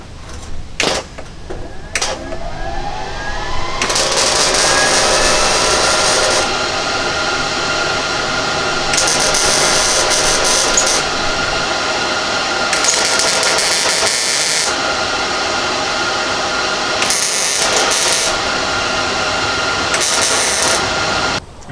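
A welder tack-welding rusty sheet metal on a 1931 Ford roof, with loud bursts of crackling, hissing arc noise in several separate runs over a constant mechanical hum.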